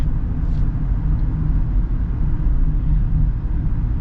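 A 2025 Honda Pilot SUV with its 10-speed transmission drives along, producing a steady, low engine and road rumble that stays even and continuous throughout, with no voices.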